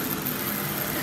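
The Duchess of Sutherland steam locomotive rolls past in a brief, steady, loud broadband rush and rumble with no break.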